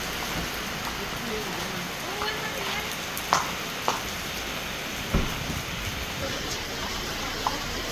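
Steady rain pours down in a constant hiss, broken by a few sharp drips or knocks close by.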